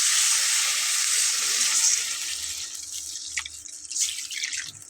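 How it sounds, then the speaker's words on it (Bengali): Water poured into a pan of thin fish curry (macher patla jhol) cooked with fried spices, giving a loud steady splashing and sizzling rush that fades and breaks into softer bubbling and drips toward the end. "তো এখন আমি এখানে পানি দিয়ে নিচ্ছি।"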